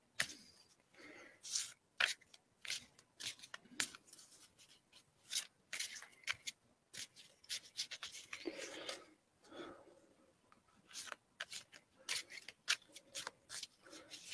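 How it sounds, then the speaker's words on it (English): Quick bursts of papery riffling and tapping, like a deck of tarot cards being shuffled close by, in short irregular spurts with pauses between. "I'm going to have to do a little bit of shuffling with these."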